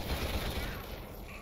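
Dense, continuous gunfire from the first-person shooter Selaco in a parking garage level, a rumbling barrage of shots coming through a wall, sustained without pause and moderately loud.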